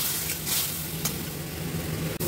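Tomatoes and a green chili frying in spiced oil for a broad bean seed curry, a steady close sizzle broken by a few brief scraping stirs.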